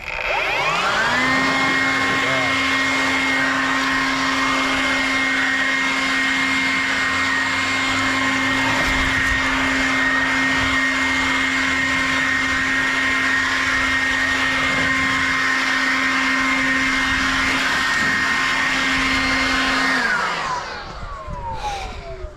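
A Ryobi 18V HP brushless cordless leaf blower spools up from rest to a loud, steady close whine with a strong rushing airflow, holds it evenly for about twenty seconds, then winds down.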